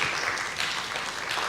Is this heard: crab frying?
no